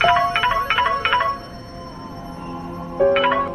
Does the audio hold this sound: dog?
no